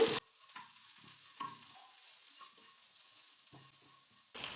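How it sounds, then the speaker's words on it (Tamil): Onion, coconut, cashews and poppy seeds sautéing in a pan for mutton kulambu, a faint low sizzle with a few soft stirring scrapes and louder bursts at the very start and end. "இப்போ இது எல்லாத்தையும் சேர்த்து நல்லா வதக்கிக்கிறேன்"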